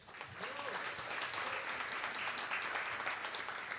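A crowd at a New York tech meetup claps steadily for a short stretch, a dense even patter of hands at moderate distance with a little talk mixed in.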